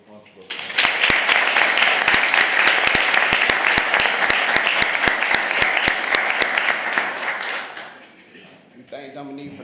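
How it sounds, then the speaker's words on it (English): Members of a mayor's youth council break into a lively round of applause with sharp, close individual claps standing out, building quickly, holding for several seconds, then fading as a voice begins speaking. "So can we please get a round of applause for us?"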